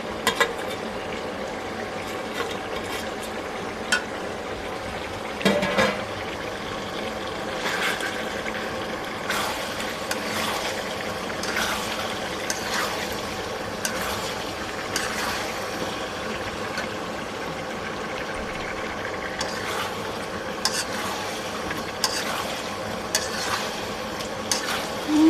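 Chicken pieces fry in a pan with garam masala paste and chili paste, a continuous soft sizzle under frequent scraping stirs from a spoon, with no speech.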